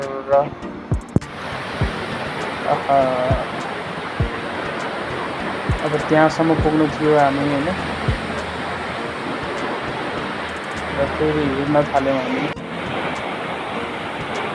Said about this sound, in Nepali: झरना एकदमै बगिरहेको छ